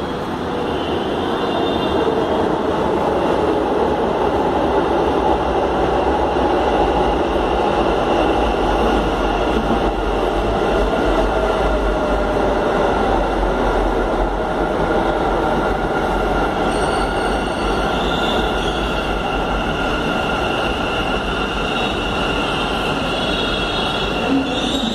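A metro train runs along its rails, a loud continuous rumble with rising wheel squeal and rushing air, sustained for the whole stretch without any voices.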